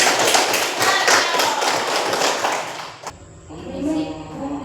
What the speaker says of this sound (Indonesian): beri tepuk tangan untuk kami